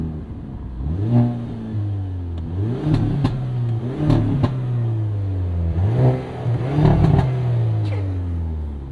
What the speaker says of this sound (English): let's give you some revs